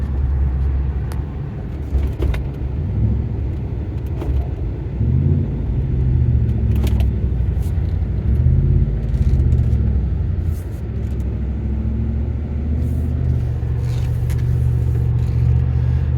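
A 2010 Ford F150 Raptor pickup truck drives along and downshifts, its engine giving a steady low rumble that shifts in pitch as gears change.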